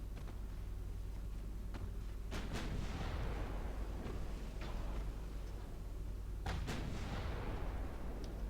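Heavy naval guns firing in the battleship game Ultimate Admiral Dreadnoughts, with German 1910-era warships: a few loud booming blasts arrive at intervals over a steady low rumble, with no talk.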